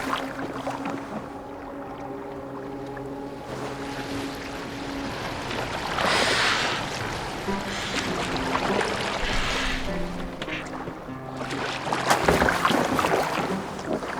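Boat steered across water in the video game Assassin's Creed Valhalla, with a steady wash of water and hull movement under low music tones, swelling in places as the wake splashes.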